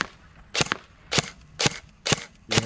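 A G&G Armament airsoft rifle fires semi-automatic into ballistic gel: five sharp, close snapping shots spaced roughly half a second apart, each with a short clack.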